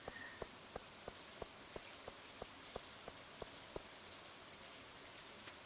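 Steady rain falling in the Stardew Valley video game, a soft continuous hiss with regular droplet ticks spaced about a third of a second apart, alone with no voices.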